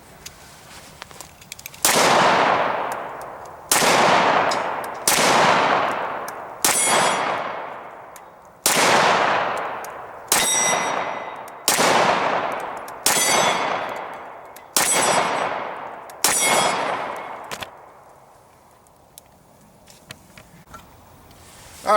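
A Tara TM-9 pistol fires about ten sharp, loud shots one at a time, each a hard crack with a ringing metallic tail, spaced a second or two apart and heard up close.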